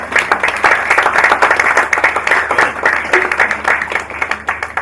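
Audience at a stock exchange hackathon event gives a round of applause, steady dense clapping throughout, fairly close and loud with individual claps standing out.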